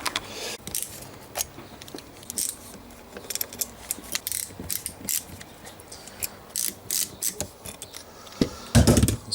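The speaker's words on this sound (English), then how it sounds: "So take all them Torx screws out." A hand ratchet backs Torx screws out of a cover on a salvage Land Rover Freelander 2, with bursts of close, rapid pawl clicking in an uneven rhythm, then heavier metallic clunks at the end.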